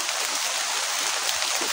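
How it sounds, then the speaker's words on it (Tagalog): Heavy rain falls steadily and loudly, a dense unbroken hiss of water pouring down close by, with no voices. "Ang lakas pa naman ng ulan, oh."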